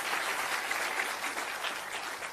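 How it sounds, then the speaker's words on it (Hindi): An audience at an award ceremony claps in steady, dense applause that carries on evenly through the whole stretch without pause. "उनको जरूर उनका अभिनंदन करना चाहिए तालियां बजाकर"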